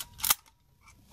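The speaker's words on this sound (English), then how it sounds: "A shutter." An Olympus-S 35mm film camera shutter fires once as a single quiet, sharp mechanical click in near silence.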